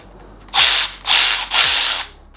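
A Milwaukee 2567-22 3/8-inch cordless ratchet whirs in three short, loud bursts, each about half a second long with brief gaps between them, as it works a torqued bolt loose.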